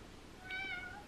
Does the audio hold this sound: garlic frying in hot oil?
no